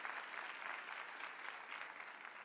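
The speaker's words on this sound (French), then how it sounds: "On peut les applaudir aussi." Quiet, distant applause from an audience at an ESSEC graduation speech ceremony, a soft, even patter of many hands lasting a couple of seconds.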